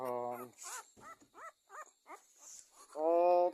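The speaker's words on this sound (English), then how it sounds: "Baby puppies, why are you crying?" Two-week-old newborn puppies whimper and cry in a string of short, high squeaky yelps, with someone talking to them in a cooing voice before and after.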